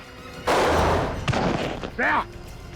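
A gunshot in a tense Indian TV crime drama scene, heard as a sharp loud blast followed by a second burst, with voices around it.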